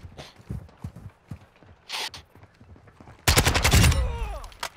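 An automatic pistol in Call of Duty: Modern Warfare II fires a loud, rapid burst, preceded by scattered footsteps and lighter in-game noises.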